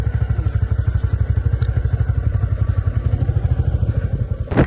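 A new motorcycle engine idles nearby with a steady, rapid low thumping pulse that stays even throughout. A brief sharp clatter sounds near the end, with no talk.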